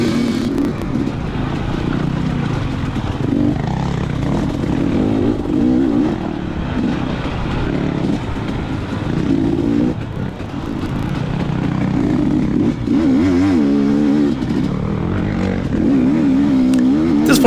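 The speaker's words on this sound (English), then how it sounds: "This is the pit area. You just kind of ride through nice and slow." A KTM 250xc two-stroke dirt bike putters slowly through a race pit area, loud and steady close up, with its engine note rising and falling gently throughout.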